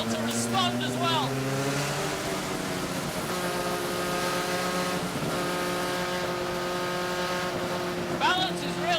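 Vintage Datsun BRE 510 race car driving hard, its engine loud and close with rising and falling revs, gear changes and a steady roar throughout, while a person talks over the engine noise.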